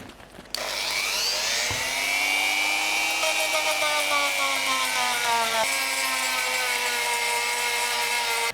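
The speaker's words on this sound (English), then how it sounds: "I don't want to be inhaling all of this Dremel dust, and there is going to be quite a lot" A Dremel rotary tool grinds a handmade shoe sole, its high whine starting abruptly and holding a steady, slowly sagging pitch with harmonic overtones as it bites into the material, close and loud, no speech.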